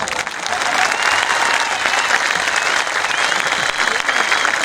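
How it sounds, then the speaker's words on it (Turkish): Enthusiastic applause from an audience at an open-air municipal talk in Yüreğir, a loud, dense wash of clapping that rises fast and stays strong throughout. "ya alkış hiç olmamalı ya da şu çadır şöyle bir sallanmalı"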